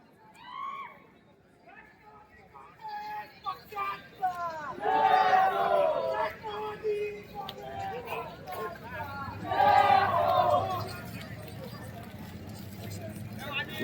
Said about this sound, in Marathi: दौंड शहरातील नागरिकांनी या ठिकाणी मोठ्या संख्येने गर्दी केलेली आहे।